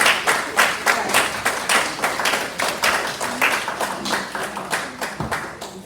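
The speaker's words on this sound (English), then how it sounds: "Let's give Mr. Keith a round of applause." An audience greets a spoken word performer with loud, rhythmic clapping, a steady beat of sharp group claps repeating a few times each second.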